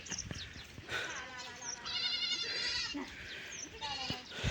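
Goats bleat at a goat farm on a hillside route, several overlapping wavering calls close by, with people talking nearby.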